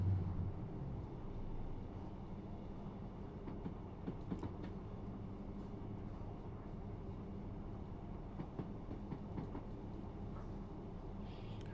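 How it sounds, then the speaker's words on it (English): Train in a UK rail simulator game running toward Manchester Piccadilly, a steady low rumble of motor and wheels with light rhythmic rail clicks throughout. "Actually, I'll get up to 30 and coast as we approach Manchester Picadilly."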